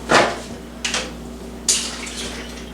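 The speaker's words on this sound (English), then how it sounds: "Now I'll pour the 16 ounces of pasta in there." Dry pasta, sixteen ounces, pours into a pot of heavy cream and chicken broth in three quick rattling bursts, each a sharp hiss that fades out, close up with no talk.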